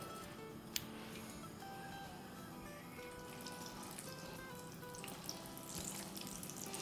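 A second batch of masala-coated mutton chops hisses and crackles in hot oil, a steady low sizzle with small pops that carries on evenly from start to finish, fairly quiet and close.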